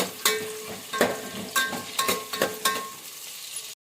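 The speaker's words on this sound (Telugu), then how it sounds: "ఇప్పుడు ఆనియన్ కూడా వేసి బాగా మగ్గనిద్దాము లైట్ బ్రౌన్ కలర్ రానిద్దాము" Onions for jackfruit biryani frying and being stirred in a pan: a steady close sizzle broken by several scraping stir strokes at an irregular pace, then a sudden cutoff.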